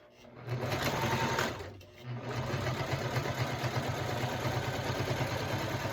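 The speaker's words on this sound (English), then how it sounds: "It's sewing fine on this with my Teflon foot." A domestic sewing machine fitted with a Teflon foot stitches a bowler bag, its rapid mechanical whirr running close and steady with one brief pause before resuming.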